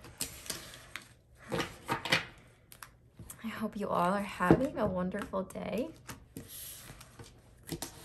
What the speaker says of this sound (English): These cards are so big, it's so hard to shuffle.